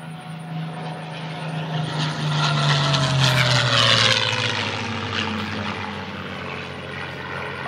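A P-51 Mustang propeller aircraft roars in from a distance, its engine drone swelling loudly as it passes close overhead, then gradually fading away.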